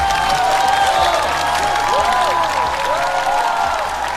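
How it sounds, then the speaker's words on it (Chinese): Studio audience on a celebrity talk show applauding, a dense steady patter of clapping from a crowd, with musical tones from the set sounding over it throughout. "再次掌声送给各位。"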